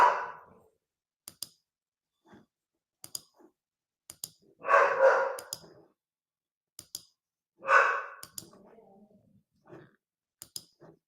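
A pet dog gives a few short, sharp barks indoors, three distinct bursts spread across the stretch, between quiet gaps and small clicks.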